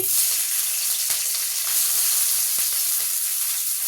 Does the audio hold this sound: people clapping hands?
no